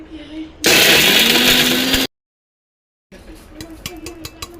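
Kitchen mixer grinder whirring loudly as it grinds torn chapati pieces into powder for churma ladoo, a single burst of about a second and a half that cuts off abruptly, followed by silence and then quieter clattering.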